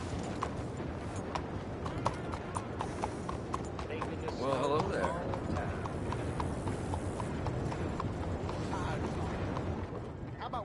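Horse hooves clip-clop in a steady rhythm in Red Dead Redemption 2 over a continuous rumbling background, with a brief spoken greeting midway.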